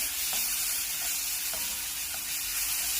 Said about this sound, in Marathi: मिरचीचा कच्चेपणा जाईपर्यंत 1-2 मिनिट हे परतून घेऊया